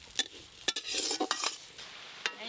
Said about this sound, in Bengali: মুগের ডালগুলো একটু হালকা করে ভাজা ভাজা হয়ে গেছে